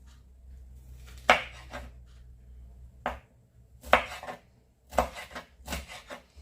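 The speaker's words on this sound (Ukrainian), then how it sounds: "І відразу ж до капусточки нарізаємо перчик." Bell pepper being cut with a knife for Ukrainian red borscht, a few separate crisp chopping and rubbing strokes on a board at an uneven pace, close up, with quiet gaps between.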